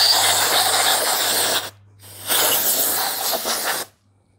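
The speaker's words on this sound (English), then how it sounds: "Coat this with WD-40" WD-40 sprays onto a Pontiac short engine block during cleaning, two loud close hissing bursts separated by a brief pause, with a low steady hum underneath.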